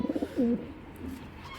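A racer pigeon coos a few times, close and fairly soft, with low rounded notes amid faint background noise.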